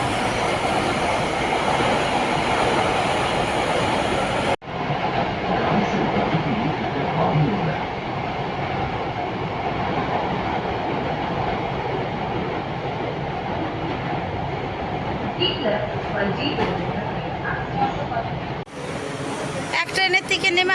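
A Delhi Metro train runs along the line, a loud continuous rumble and hum of wheels and motors heard from inside the carriage, with a door or station change partway through and people talking over it.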